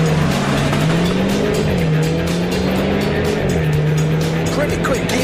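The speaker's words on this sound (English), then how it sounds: "pull both levers, launch control's on, hit the throttle" A Renault Sport hot hatch pulls away hard under launch control, its engine note climbing loud and close through the revs and settling briefly at the gear change before rising again, with steady road and tyre noise underneath and a voice talking over it.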